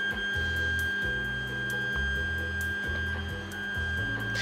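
Creality Ender 3 3D printer raising its nozzle along the Z axis, a steady electronic whine from the stepper motor with a regular stuttering pulse and faint ticks, close and continuous.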